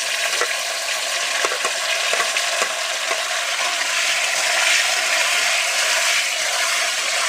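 Thin, long-cut tomato slices frying in oil in a pan, giving a dense, steady sizzle that runs loud and unbroken throughout, with no voices.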